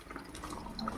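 Soapy water trickles and drips from an opened valve on a toilet cleaning machine, a faint, steady splashing flow with small droplet ticks, heard alone.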